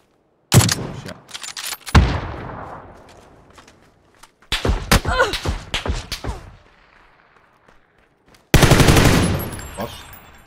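Gunfire in the battle royale video game PUBG, with loud close bursts of shots and sharp cracks in several clusters separated by quiet gaps, ending in a dense rattling burst.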